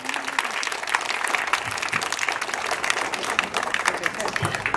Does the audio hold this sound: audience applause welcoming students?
yes